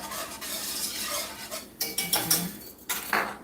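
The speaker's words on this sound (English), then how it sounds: "I hate to scrape this pan, but I don't have a softer whisk" Metal whisk scraping and clinking against a pan while stirring sauce for spiked apple dumplings, a continuous close scrape broken by several sharp metallic strokes toward the end.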